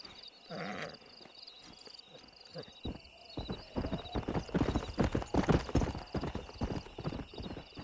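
Horse hooves clip-clop in a Western frontier setting in the Red Dead Redemption video game, a fine stallion stepping in a quickening rhythm that grows louder and nearer toward the end, with a brief whinny-like cry near the start and faint ambient hiss.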